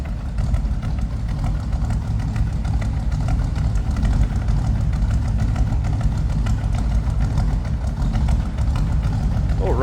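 A 1962 Chevrolet Impala SS sport coupe's 283 V8 with a mild cam idles with a throaty exhaust, a steady low rumble with a slight lope running continuously, with a voice speaking over it.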